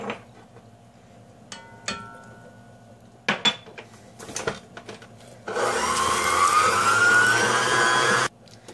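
Egg and flour are whisked in a bowl for an oat, cheese and fruit tart: scattered clinks and taps, then a loud steady whirring burst lasting about three seconds that stops abruptly.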